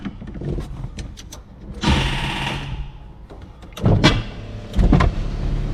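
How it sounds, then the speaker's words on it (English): A Camaro Z28's power windows motor down in bursts, a few seconds of whining electric drive with short pauses between, close by and fairly loud, with some clicks and handling noise around them. "we'll see if I can turn the ignition and drop these windows down."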